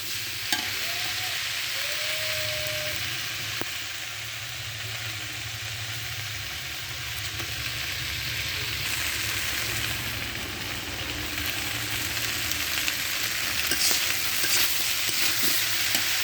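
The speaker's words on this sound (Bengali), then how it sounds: "এভাবে এবার আমি কষিয়ে নেব।" Tender red amaranth stems and new potatoes being stir-fried in a pan, a steady soft sizzle with stirring scrapes running throughout, fairly even in level with a few brief clinks, no voices.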